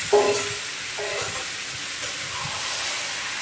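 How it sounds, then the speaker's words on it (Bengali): Marinated goat meat fries in a pan with steady broadband sizzling while a utensil stirs it in a few scraping strokes, close and fairly loud with no talking. "দু ঘন্টা ম্যারিনেট করে রাখার পর মাংসটা এবার কষতে দিয়ে দিলাম।"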